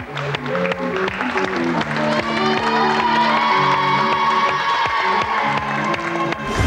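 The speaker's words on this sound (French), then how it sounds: "On peut les applaudir bien fort." Show audience claps and cheers loudly after a balancing act performed on a sabre, the applause carrying on steadily while tonal music with a bright repeating melody plays over it.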